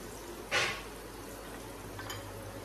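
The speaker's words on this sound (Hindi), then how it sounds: "फ्राई करने के लिए रखेंगे।" Whole spices, about a tablespoon, hit hot oil in a pan for chicken pulao, giving one brief sharp sizzle burst followed by a quieter faint crackle.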